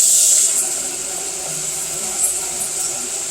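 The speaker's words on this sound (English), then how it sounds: "I'm gonna add the rice in that hot oil and the green onions" Rice and green onions sizzle in hot oil, a steady, close hiss of frying that holds at an even level with a sharp burst at the start.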